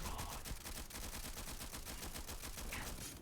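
Rapid automatic fire from an AK000 rifle mod in the Starfield video game, a dense run of evenly spaced shots that carries on without a break for about three seconds.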